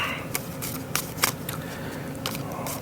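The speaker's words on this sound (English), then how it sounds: "And then you shuffle the encounter deck." A deck of encounter cards for the Arkham Horror card game is shuffled up close, producing a series of quick papery riffles and snaps spaced irregularly over about three seconds, with no talking.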